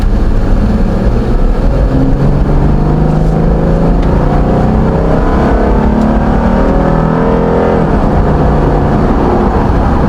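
A Ford F-150 3.5-litre V6 engine runs loud and close, rumbling steadily and continuously with a deep, rough idle throughout, on its first start after sitting dead.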